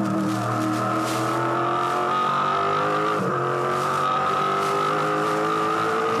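V8 Supercar engines, including a Holden, roar continuously during the 2005 Bathurst 1000 race, a loud, sustained multi-car drone with shifting engine tones and no talk.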